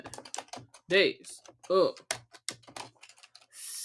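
Long fingernails tap across a computer keyboard in quick, sharp clicks while a person talks over the typing.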